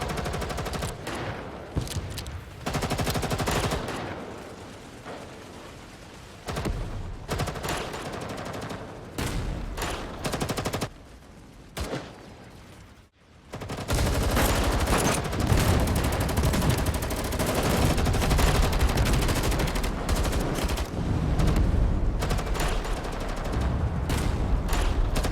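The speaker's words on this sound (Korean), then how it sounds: "밖에 총소리 들려?" Bursts of rapid gunfire and automatic weapon fire from Girls' Frontline 2: Exilium story mode, loud and repeated, with a short lull before a sustained barrage.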